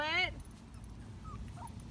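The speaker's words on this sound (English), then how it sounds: "Hey, Weber puppy, what are you doing? You're escaping" Young weaning puppy gives a short high whimpering whine near the start, then faint yips over a steady low background.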